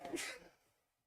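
A single short sneeze, fairly faint, with a sharp burst that tails off quickly into quiet.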